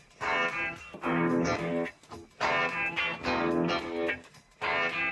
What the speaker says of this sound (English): The guitar riff sounds like this.